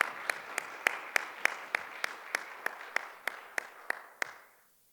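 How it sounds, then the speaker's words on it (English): Applause for a disability advisory committee at a quarterly meeting: about fifteen distinct, evenly spaced claps over a soft wash of clapping, ending abruptly, with no one speaking. "I give these guys a round of applause."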